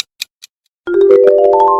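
A few soft percussive taps, then a bright, sustained synth jingle rising in stepped notes, the Nestle Milo logo sound, short and clean with no voices.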